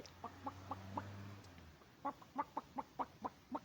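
Clucking chicken sound effects from a chicken road-crossing video game repeat in a quick, steady rhythm. A low hum runs under the first half, with no talking.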